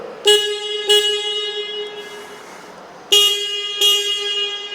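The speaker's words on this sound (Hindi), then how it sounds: "दोनों ही बाइक्स का जो हॉर्न है वो काफ़ी ज़्यादा लाउड है।" Four loud, harmonic KTM Duke motorcycle horn honks in two pairs, each a short bright blast, with a quiet gap between the pairs.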